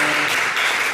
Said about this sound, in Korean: 하나님께 감사의 박수를 드립니다